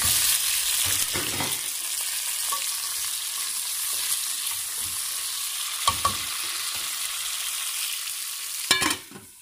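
Chicken fries in a pan for an Asian-style Arabian rice dish, giving a continuous close sizzle. Occasional clinks and scrapes of stirring cut through, and a louder clatter comes near the end. No one speaks.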